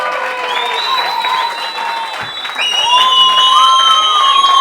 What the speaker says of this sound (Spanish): Le damos fuerte un aplauso